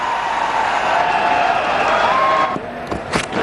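A cricket stadium crowd in a one-day international between India and Australia applauds and cheers a boundary, a broad wash of clapping and crowd noise that thins out toward the end.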